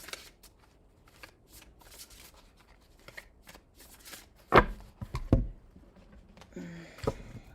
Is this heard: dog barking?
no